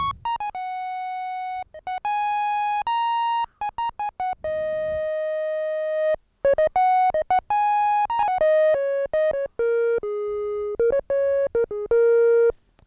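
A pure, breathy flute-like tone from a Behringer DeepMind 12 synthesizer plays a sequence of sustained notes, short phrases stepping up and down with brief gaps, clean and fairly loud with no voices.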